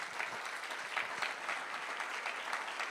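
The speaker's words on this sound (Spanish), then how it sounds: "Dale un fuerte aplauso al Señor" A church congregation gives a sustained round of applause for the Lord, steady dense clapping with a few sharper hand claps standing out, fairly distant and even throughout.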